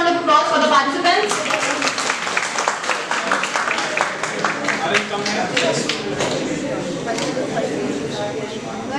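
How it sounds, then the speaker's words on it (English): A large audience at a valedictory ceremony applauds the participants, a dense sustained clapping that stays fairly even throughout, with some voices mixed in underneath. "May we please have a huge round of applause for the participants?"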